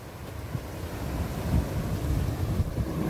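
Sea waves at the shore with wind buffeting the microphone, a continuous rough rushing wash that swells slightly midway, close and fairly loud with no talk.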